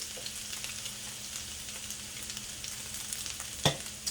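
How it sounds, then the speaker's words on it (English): Ginger and garlic hit hot oil in a wok for a chicken stir-fry and sizzle steadily with a fine crackling hiss, then a sharp clank of a utensil sounds near the end. "we're gonna add in ginger and garlic. A lot of ginger and garlic. Give them a quick stir right away"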